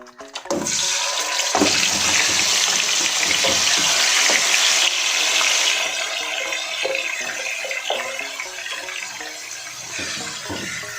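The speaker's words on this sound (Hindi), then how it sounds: "तो इसमें अब हम कढ़ाई में ये कुक करते हैं।" Loud, steady sizzling and crackling of marinated chicken frying in hot oil in a karahi, with occasional sharper pops and clatters from the pan, continuing without voices.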